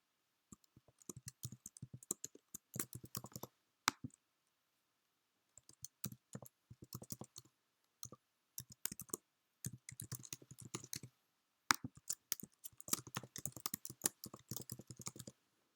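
Bursts of rapid key clicks on a computer keyboard as a name, email and password are entered, each burst separated by short quiet pauses, close and clear.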